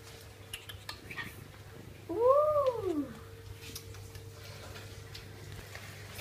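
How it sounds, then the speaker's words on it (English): An old, bony rescued homeless cat gives a single rising-and-falling meow, close and fairly clear, against a quiet room with a faint steady hum. "I think he's an old cat."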